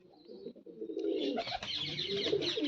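Pigeons coo softly and repeatedly close by, their low throaty calls layered with light rustling.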